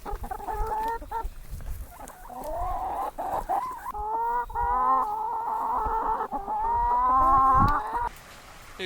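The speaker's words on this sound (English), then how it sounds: "These chickens will follow you all the way up to the pig pen." Several chickens cluck and squawk nearby in a busy, overlapping chorus, with rising calls and a few footsteps or rustles underneath.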